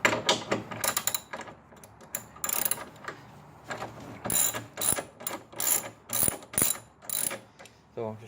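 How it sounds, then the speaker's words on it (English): Ratchet wrench loosening 12 millimeter bolts on a motorcycle trunk, rapid clicking bursts repeating in quick strokes, close and loud with brief pauses between pulls. "So just remove those 4 bolts"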